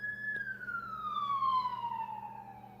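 A nearby ambulance siren wails as one long tone gliding slowly downward, heard at a moderate distance over a faint low hum with no talking.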